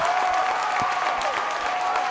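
A high school girls basketball crowd at Homestead applauds a three-pointer, a dense, steady burst of clapping and cheering filling the gym.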